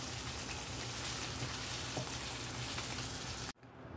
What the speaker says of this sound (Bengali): এইভাবে মাছগুলোকে ভেজে নেবে